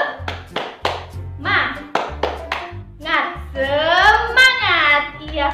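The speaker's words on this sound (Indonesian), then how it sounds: "Tepuk semangat." A group of children perform a rhythmic 'tepuk semangat' spirit clapping chant in a classroom, with sharp patterned handclaps alongside their voices chanting together, loud and close.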